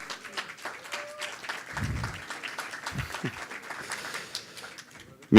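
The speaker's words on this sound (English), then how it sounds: "Round of applause for Amir." An audience at a launch celebration applauding a speaker about to take the stage: a moderate wash of clapping from many hands, rather distant and even, with a few low thumps and a loud bump at the very end.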